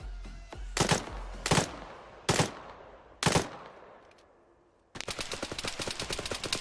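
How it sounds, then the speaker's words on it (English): Gunfire from a gun in the video game Arma 3: four sharp, loud single shots spaced about a second apart, then a rapid automatic burst of many rounds fired in quick succession. "Judging by the sound of the gun and the length of the trigger pulls, it's the same guy"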